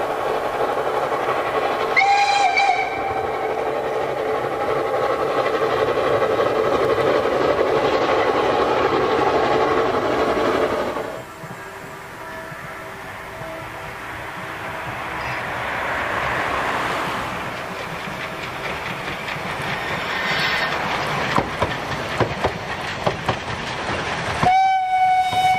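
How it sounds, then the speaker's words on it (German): A narrow-gauge steam train on the Fichtelbergbahn, hauled by a 2009 replica Saxon class I K locomotive, rumbles steadily along, whistle tones sounding near the start and end, with a brief shift in the running noise midway. "Erstmals auf der Fichtelbergbahn zum Einsatz kam der Nachbau einer Lok der sächsischen Baureihe 1K"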